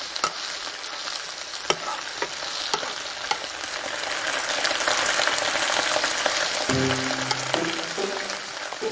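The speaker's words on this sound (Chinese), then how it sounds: "不错啊，你炒菜炒得挺熟练的嘛。" Food stir-fried in a wok in a home kitchen, a loud continuous sizzle with scraping and clanking of the spatula against the pan, and a brief voice near the end.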